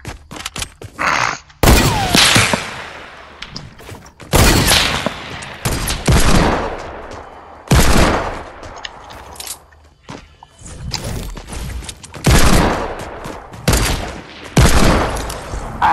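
Rapid video-game gunfire from a hand cannon and a rifle, crackling in dense bursts and volleys with short gaps between them, loud and close throughout.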